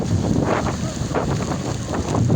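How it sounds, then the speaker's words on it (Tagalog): Loud, buffeting wind roars across the microphone in irregular gusts on a small boat, with a rough rumbling texture of open water moving nearby. "Ang lakas ng hangin."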